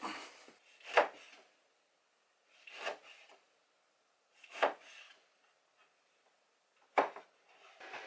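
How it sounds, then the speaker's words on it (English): Knife chopping chunks of tallow into small pieces for pemmican, heard as four separate bursts of coarse, rasping cuts spaced a couple of seconds apart, fairly close with quiet gaps between them and no talking. "I'm going to start with a little pre-step of chopping all this stuff up."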